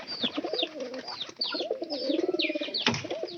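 Pigeons in a loft coo in soft repeated throaty rolls close by, with a few chirps and a short rustle or flap near the end.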